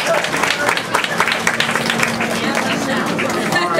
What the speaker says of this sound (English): Everybody, please give her a round of applause.